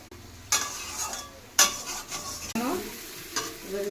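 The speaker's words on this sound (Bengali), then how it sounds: "মটরশুঁটি দিয়ে দিলাম, ভেজে ধুয়ে রেখেছি দিয়ে দিলাম, একটু চিনি দিলাম, টমেটোটা দিয়ে দিলাম" Peas, sugar and chopped tomato are stirred into a sizzling pan of mixed masoor dal, with a few sharp scraping stirs over a steady frying hiss close by.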